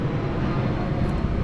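Broad, loud roar of an airplane passing overhead near an airport, steady across the short stretch with no voices.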